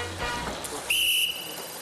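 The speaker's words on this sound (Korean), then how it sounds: "호루라기 소리로 위판장 여기저기에 흩어져 있던 중매인들이 한자리에 모입니다." A short, sharp whistle blast rings out at a seaside fish auction market where octopus catches are sold, standing out briefly over faint background noise.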